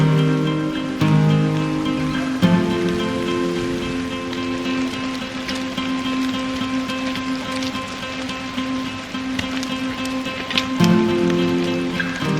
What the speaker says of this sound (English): Well, it's cold, windy, and rainy out.